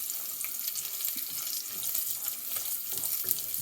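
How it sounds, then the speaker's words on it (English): Cashews lightly frying in a pan give a soft, steady sizzle with faint crackles and small clicks throughout. "We have to lightly toast it, lightly fry the cashews."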